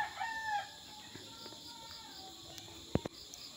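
Chickens at a large egg-farm coop, with a single rooster-like crow near the start followed by faint clucks and scattered bird calls over a quiet background hiss.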